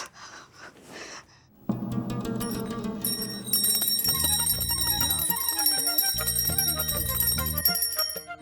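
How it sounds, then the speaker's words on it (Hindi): A handheld prayer bell rings in a steady, bright, repeated clang at a devotional setting, loud and close, joined by sustained ringing tones after a few quiet breaths at the start. "घंटी कहाँ गई है?"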